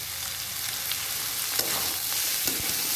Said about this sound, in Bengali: ভালো করে নেড়ে নেব। পরিমাণ মতো হলুদ দিয়ে দেব।